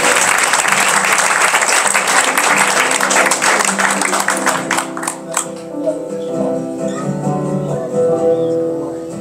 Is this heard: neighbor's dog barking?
no